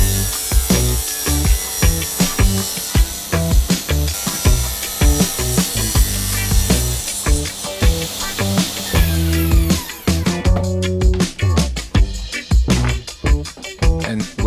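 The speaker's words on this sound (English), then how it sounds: "I cut the first piece and then simply repeat the process." Saw cutting through 15T (about 5/8 inch) plywood pieces in a garage workshop, loud and close, with dense rasping strokes and repeated cuts running continuously, the tone shifting slightly near the end.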